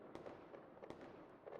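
Fireworks from a playing video, faint and small-sounding, with several sharp cracks and pops scattered irregularly over a low, even background hiss.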